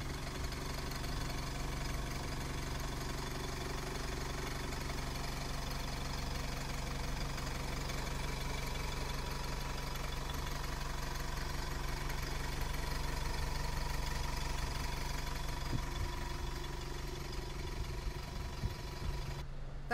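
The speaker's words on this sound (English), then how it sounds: "So with the engine now running, I'll take you up to the engine bay itself for a closer inspection." An ADL Enviro200 10.8m bus diesel engine idling, heard close up in the engine bay, a steady loud low rumble with a constant mechanical hum and no pauses throughout.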